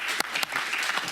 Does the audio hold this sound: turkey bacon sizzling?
no